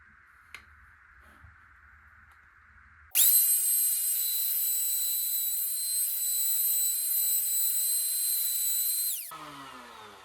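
A router cuts the bridge cavity of an ST3 guitar body, one continuous loud high-pitched whine that starts abruptly after a quiet lead-in, holds steady for about six seconds, then spins down.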